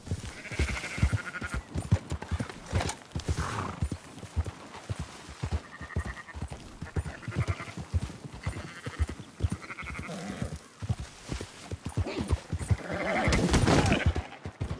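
Sheep bleating repeatedly in Red Dead Redemption 2, a flock calling near and loud in uneven bursts alongside hoof and movement noise.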